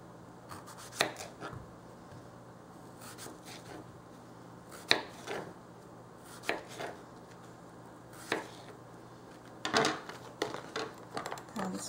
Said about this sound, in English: just quickly, easily chop it into squares